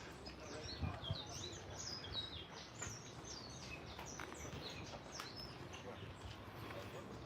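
Several birds chirp and tweet outdoors on Hawaii's Big Island in a lush green spot, scattered short calls over a steady bed of low background noise.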